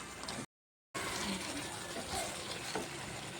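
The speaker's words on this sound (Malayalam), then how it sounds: "അതിപ്പോൾ നല്ല തിളച്ച് വന്നിട്ടുണ്ട്." Pasta boiling in a pan on the stove gives a continuous dense bubbling hiss at moderate level, broken by a short moment of silence near the start.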